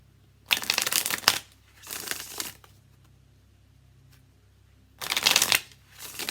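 Tarot cards are shuffled in three separate bursts of crisp riffling, two close together near the start and one more a few seconds later, with quiet pauses between them.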